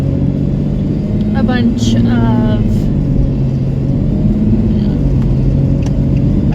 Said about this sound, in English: I'm driving around in a town that I'm not exactly familiar with